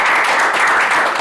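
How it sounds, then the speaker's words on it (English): A short burst of loud, close audience applause at a literary panel event, many hands clapping in a continuous dense patter with no voices over it. "Again, a little round of applause"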